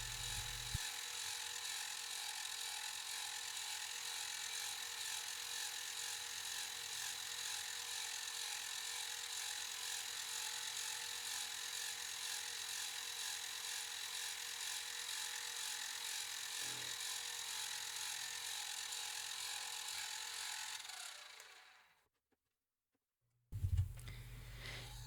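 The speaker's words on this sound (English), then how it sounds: "And drilling holes on the rear column." A drill bores holes in the rear column of a low-budget bicycle frame jig, lined up with a steel plate. It makes a steady, continuous whine for about twenty seconds, then cuts out into a brief silence, and a short burst of noise follows.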